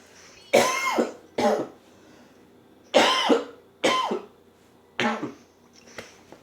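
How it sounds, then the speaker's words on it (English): Five or six harsh coughs in bursts, loud and close, with short pauses between, then a faint final cough. "I apologize about the coughing"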